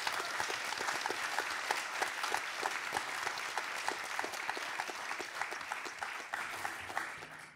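Audience applause for Hanne at an opening conference on Gaza and Palestine: many close, distinct hand claps in a lively, slightly rhythmic patter that stays fairly steady, then thins toward the end.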